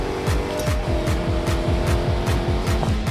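A Dodge Challenger SRT Hellcat in a racing video game, its engine droning steadily with rapid rhythmic pulsing through fast drifting driving, loud and close with no talk.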